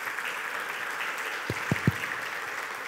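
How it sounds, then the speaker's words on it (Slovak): Audience applause at a 3D printing forum in Trnava, a steady wash of clapping across the whole stretch with a few louder low thumps near the end. "poprosil by som za potlesku, ak by bolo možné"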